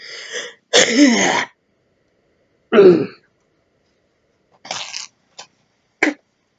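A series of short, forceful coughs and throat-clearing bursts from airway-clearing for bronchiectasis, close by, separated by pauses, with a few brief fainter hacks toward the end.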